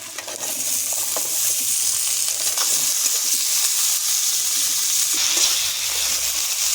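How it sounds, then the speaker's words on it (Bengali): Onion and potato fry together in a pan with a steady, close sizzle and occasional stirring scrapes, continuous throughout with no voices. "এবার পেঁয়াজ আলু আমি একসঙ্গে একটু ভাজা ভাজা করে নেব"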